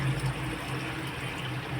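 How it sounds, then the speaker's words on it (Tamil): Tender coconut water poured into a kesari mixture in a pan, a soft steady trickling and bubbling wash, close and continuous without talk. "இப்போ வந்துட்டு நம்ம இளநீர் தண்ணி ஊற்ற போகிறோம்."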